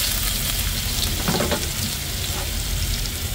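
Garlic sizzles in a hot pan for a stir fry of Baguio beans with chicken hot dogs, giving a steady, close crackling hiss with a few brief stirring scrapes.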